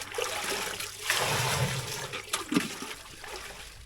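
Water pours and trickles steadily, a continuous splashing flow close by with no talking.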